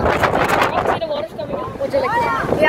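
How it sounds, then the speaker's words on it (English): Strong wind buffets the microphone at a seaside cliff, a constant loud roar and rumble, while people talk over it. "It's really windy here with Willy."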